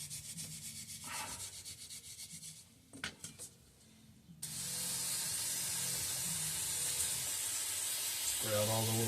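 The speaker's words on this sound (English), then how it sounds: "Spray out all the little holes." Aerosol cleaner sprayed into the small holes of a Walbro impulse fuel pump for a Tecumseh HH120, a loud steady close hiss that starts midway after earlier brushing noises and a few knocks.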